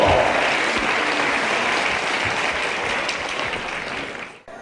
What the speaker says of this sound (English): I'm sure you give both these boys a very big round of applause